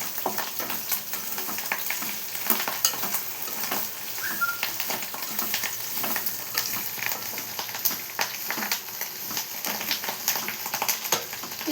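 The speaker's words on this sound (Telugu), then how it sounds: "ఇలా కొంచెం కరివేపాకు కూడా చిటిపల్లాడుతున్నప్పుడు" A handful of washed curry leaves crackles and splutters in hot oil for sorakaya (bottle gourd) pachadi, giving a steady close sizzle dotted with sharp little pops and occasional stirring, with no speech.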